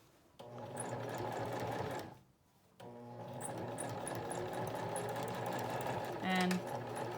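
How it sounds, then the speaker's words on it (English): A sewing machine stitches a fabric face mask in two loud whirring runs split by a short pause, with a sharper back-stitch burst near the end. "I'm gonna sew a couple stitches, back stitch"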